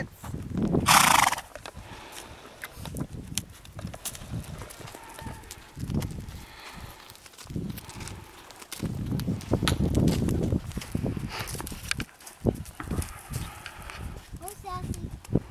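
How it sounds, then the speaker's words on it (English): A horse neighs loudly near the start, then hooves clop and shuffle on the ground while people talk and call out nearby. "Following the horse."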